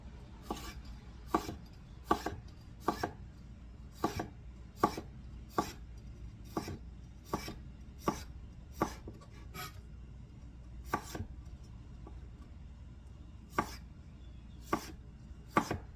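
A knife chopping asparagus on a cutting board: crisp, close chops in an uneven rhythm, about a dozen and a half strokes with short pauses between, and no speech.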